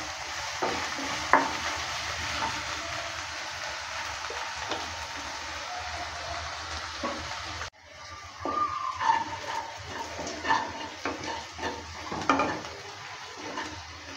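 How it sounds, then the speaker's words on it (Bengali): Chopped capsicum and green chili fry in a pan with a continuous close sizzle, followed after a cut by louder scraping and stirring strokes and occasional clinks of the spatula against the pan. "দেওয়ার পর ভালো করে নেড়েচেড়ে নিচ্ছি। এটা কিছুক্ষণ সময় নিয়ে ভেজে নেব।"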